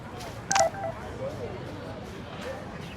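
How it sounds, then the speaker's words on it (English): A phone text-message alert in the video game Life is Strange: one brief, bright electronic chime that rises clearly above a low, steady background hum, then fades. "I better read Warren's text before he blows my phone up"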